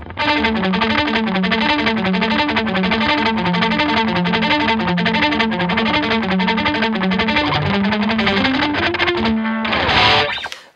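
Electric guitar through overdrive distortion and delay plays a repeating riff with echoing delay trails and a chorus-like shimmer, loud and continuous, ending on a final strum.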